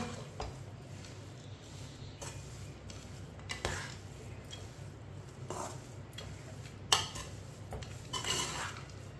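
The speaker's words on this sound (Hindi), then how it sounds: "ड्राई फ्रूट जो हमने रोस्ट किए थे वो डालेंगे। मिक्स कर लेंगे।" Roasted dry fruits stirred through a mixture in a pan while making semolina laddu, giving soft clinks and scrapes of a spoon against metal over a low steady background, with one sharper knock near the end.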